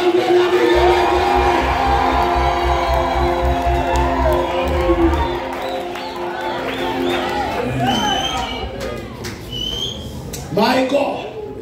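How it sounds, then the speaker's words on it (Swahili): A church congregation shouts, whistles, cheers and ululates loudly for Jesus, a dense crowd roar with a low sustained tone early on, fading into scattered whoops and trills. "Pigia Yesu shangwe na vigelegele."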